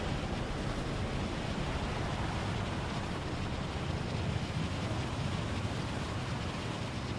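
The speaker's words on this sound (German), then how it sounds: "Ich meine, ja, da oben ist es windig." Steady wind rushing on a mountaintop in Far Cry 5, a broad, constant roar that does not rise or fall.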